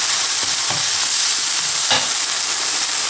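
Chicken and mushrooms simmer with cream in a pan, giving a steady soft hiss with a couple of faint clinks near the start and middle, and no voices.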